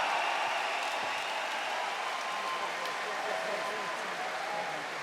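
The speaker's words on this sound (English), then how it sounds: "Listen to the crowd, the roar." Arena crowd at an OKTAGON MMA event roaring and cheering after the judges' decision for JJ Gottvald, a sustained, even wall of crowd noise with applause, loud and continuous, with faint voices mixed in.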